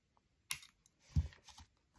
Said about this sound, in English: It's still a little long. I'm going to cut that a little more.